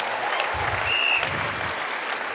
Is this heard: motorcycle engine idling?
no